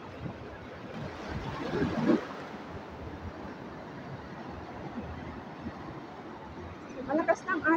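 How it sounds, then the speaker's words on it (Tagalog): Strong surf at Pui O Beach on Lantau Island, Hong Kong: a steady wash of breaking waves and wind across the whole stretch, with a louder wave surge about two seconds in and people talking quietly near the end. "Malakas ng alon."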